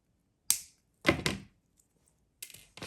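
Wire cutters snip the end of a jewelry wire wrap, giving a few sharp, quiet metallic clicks and snaps close up, separated by brief silences.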